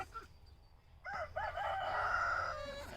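Chickens on a farm cluck and call nearby, a few short vocal bursts followed by a louder sustained squawk, with light background noise.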